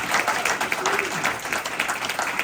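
Audience applause at a kava bar after a personal talk about ketamine, steady clapping from a small crowd, fairly loud and continuous throughout, with voices faintly mixed in.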